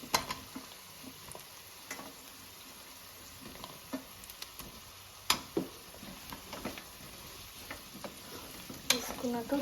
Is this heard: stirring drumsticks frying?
yes